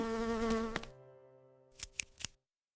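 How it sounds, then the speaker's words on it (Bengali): Housefly buzzing sound effect, a close droning hum that tapers off over about a second, followed by a few sharp, scattered clicks and flutters near the end, with no talking. "মাছিকে ইংলিশে বলে হাউস ফ্লাই।"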